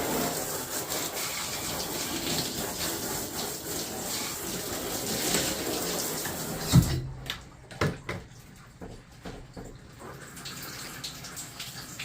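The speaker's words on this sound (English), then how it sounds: "Give my tires a good wash down, a little good soak down." Water sprayed over the tires of a Traxxas Summit RC car, a steady broadband hiss of spray for several seconds that cuts off abruptly, followed by a few faint splashes and drips.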